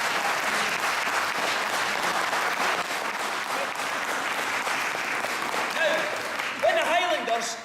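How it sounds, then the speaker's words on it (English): An audience on a British Isles cruise applauds with steady, dense clapping that holds throughout, with a few faint voices rising near the end. "I'd like everybody to give Emily a big cheer and a big round of applause"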